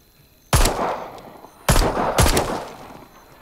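Gunshots from the virtual reality zombie game Arizona Sunshine: three sharp, loud blasts, one alone and then a close pair, each trailing off in a short echoing decay, with no talk over them.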